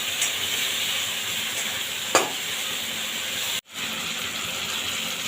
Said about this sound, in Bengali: এইবার এই মিশ্রণটা আমি দিয়ে দেবো এটা তেলের ওপরে দিয়ে হালকা হাতে নেড়ে ছেড়ে দেবো